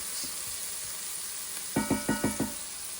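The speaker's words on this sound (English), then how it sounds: "We're going to bring this down to a little bit of a lower heat because we want to saute these." Meatballs sauteing in a pan over lowered heat give a faint, steady sizzle, then about five quick, regular knocks and scrapes as they are stirred near the end.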